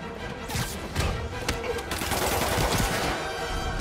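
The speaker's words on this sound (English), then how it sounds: "Gunshot coming!" Rapid gunfire crackles in a Spider-Man video game during a police team-up chase, dense bursts of overlapping shots with thuds, fairly loud and continuous throughout.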